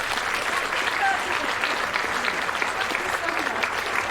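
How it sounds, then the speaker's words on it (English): A room full of people claps together after a volunteer's demonstration, a steady, fairly loud burst of applause that holds throughout, with voices murmuring underneath. "Can we give him a round of applause?"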